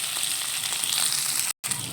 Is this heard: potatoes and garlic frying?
yes